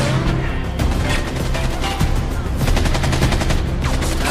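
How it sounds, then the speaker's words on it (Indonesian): Rapid gunfire from a film shootout between rival groups, a dense stream of loud, overlapping shots and bursts running continuously throughout, with no talk. "baku tembak pun terjadi"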